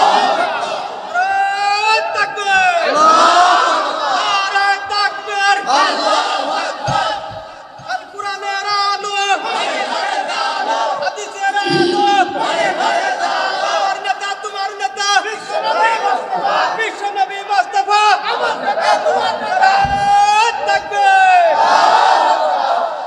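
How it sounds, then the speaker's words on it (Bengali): A large religious gathering chanting takbir in unison, loud massed voices answering a leader in repeated rhythmic waves of call and response over about twenty seconds. "আমরা সবাই একটু তাকবীর দিই"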